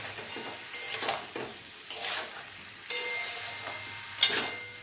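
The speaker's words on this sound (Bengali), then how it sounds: "একটু নাড়াচাড়া করে নেব।" Tomatoes and salt being stirred in a frying pan, with bursts of scraping and sizzling coming in a few spaced waves over a quieter steady frying hiss, close and moderately loud.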